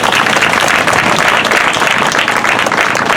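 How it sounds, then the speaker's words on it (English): A crowd claps and applauds loudly and continuously at an outdoor memorial rally in Greenfield, California, held in a call for justice for Vanessa Guillen, a dense and unbroken wash of hands. "A round of applause for the Hood Squad for coming out there."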